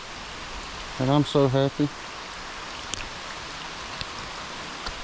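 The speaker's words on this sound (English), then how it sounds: "A little largemouth in the pouring rain." Pouring rain hisses steadily beside an urban creek in Nashville, Tennessee, during largemouth bass fishing, a constant wash under a short burst of someone speaking and a few faint ticks.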